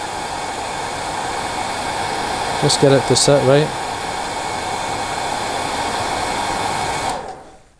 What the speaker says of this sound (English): just get the hair dryer, roll your fingers through it